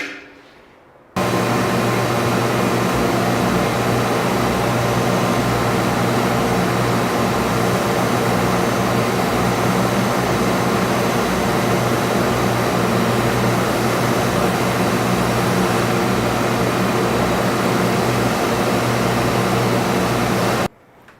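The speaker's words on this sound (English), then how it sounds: "now I'm going to use the oscillating spindle sander to get right up to the line" An oscillating spindle sander shapes an oak wood fidget spinner blank, its motor droning loud and steady from about a second in until it cuts off just before the end.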